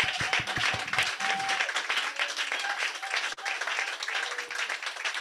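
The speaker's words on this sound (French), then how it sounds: "Est-ce qu'on peut applaudir le Seigneur pour ce qu'il a fait pour Bobette?" A church congregation breaks into sustained applause, dense and continuous for several seconds with some faint voices mixed in, heard from within the crowd.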